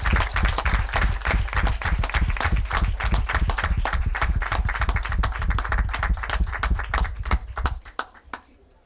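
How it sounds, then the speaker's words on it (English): A crowd at a sports launch event gives a steady round of applause. The clapping holds a strong rhythm, almost in unison, and stays loud and close before tapering off near the end. "Another round of applause as she leaves."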